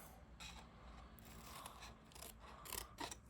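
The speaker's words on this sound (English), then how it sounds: "I'm gonna snip up, take a little bit off" Scissors snip designer series paper for a bath fizz gift box in several small, quiet, close cuts, each a short crisp clip spaced unevenly.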